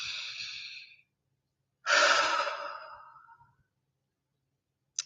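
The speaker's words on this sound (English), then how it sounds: "take a breath" A deep breath during a calming tapping exercise: a long, close inhale, a pause, then a fuller, louder exhale that fades out, with a brief soft sound at the very end.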